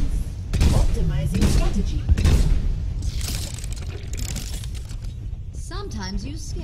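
Overwatch combat on the Horizon map brings bursts of rapid gunfire and booming impacts that crackle in dense clusters, mixed with game effects and a voice talking over the action.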